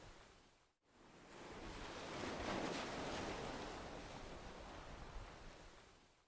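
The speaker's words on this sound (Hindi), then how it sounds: "समुद्र की आवाज को सुनिए" Ocean waves washing up onto sand and drawing back, a soft, continuous rushing surf that swells to a broad peak midway and slowly eases, heard alone at a gentle, distant-sounding level.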